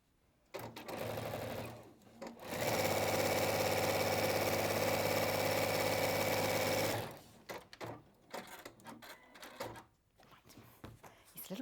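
Sewing machine joining small fabric strips, starting in short bursts, then running in one long steady stretch of about four seconds before stopping, followed by brief handling noises, close and moderately loud.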